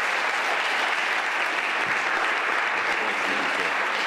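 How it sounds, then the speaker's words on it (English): An audience gives a steady, full round of applause for a speaker after a leadership talk, dense clapping sustained throughout at even loudness with no speech over it. "if we could get an awesome round of applause for Lou."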